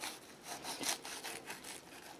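Rhythmic crunching and scraping of a knife cutting through crisp pork crackling on a roast pork shoulder, close and repeated several times at a steady pace.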